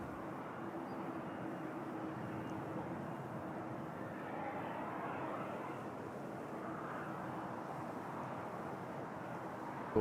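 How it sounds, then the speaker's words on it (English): An Airbus A330 jet at Toronto Pearson gives off a faint, steady, distant engine rumble that holds evenly throughout, with no voices present. "It's just an A330."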